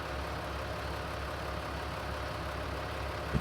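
A tractor engine idles in Farming Simulator 19 with a cultivator hitched, a steady, dense low rumble holding constant throughout before a brief louder thump at the end.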